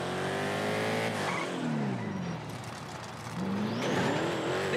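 Car racing in GTA V, an engine revving loudly up and down through gear changes with rising and falling pitch, close and continuous, with a brief tire squeal.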